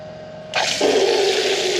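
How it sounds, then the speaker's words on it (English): A powerful van shower suddenly bursts on, spraying water hard into a bucket with a loud, steady hiss that then deepens into a fuller drumming as the bucket starts to fill. "I wanted to show you how powerful the shower is"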